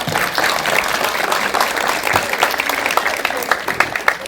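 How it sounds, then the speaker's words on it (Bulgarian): Applause fills the hall at a ceremony of a professional technical high school in Burgas, a dense, steady clapping from a close audience with a few sharper claps standing out near the end. "Аплодисменти!"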